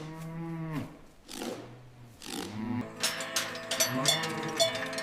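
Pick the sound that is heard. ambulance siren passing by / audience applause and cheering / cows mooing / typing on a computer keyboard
cows mooing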